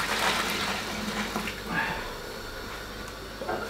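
Boiling water pouring steadily into a tin, a close splashing gush that gradually softens, with no speech over it.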